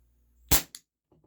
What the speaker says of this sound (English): there we go. First shot.